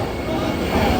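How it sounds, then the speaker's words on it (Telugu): A Vande Bharat express train stands at a Hyderabad station platform. A loud, steady rumble and hum fill the air without a break, with people's voices mixed into the station noise. "ట్రైన్ ఆల్రెడీ వచ్చేసింది వందే భారత్."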